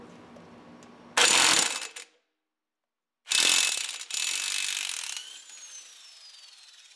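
Ratchet wrench with a 21 mm socket working on the passenger-side suspension of a 2006 Jeep Commander, two loud bursts of rapid clicking separated by a short silence, close up with no talk.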